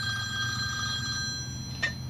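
A telephone rings in a workshop during a Daikin mini split repair job, a steady electronic ringing tone held at moderate level over a low background hum, with a brief sharper click near the end.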